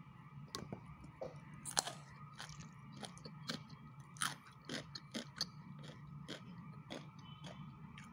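Close, crisp crunching as someone bites and chews a cooked vegetable, still crunchy, from a dish of pink salmon with garlic leaves; irregular snaps and munches repeat steadily over a faint low hum, with no talking.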